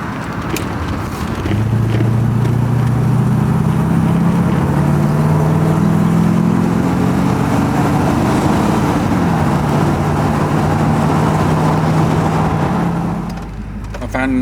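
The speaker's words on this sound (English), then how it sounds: "I thought we'd go down and terrorise my noisy exhaust" A Porsche 928 with a noisy exhaust drones steadily while driving through a housing estate, a low rumbling tone shifting in pitch. A person talks over it for most of the stretch.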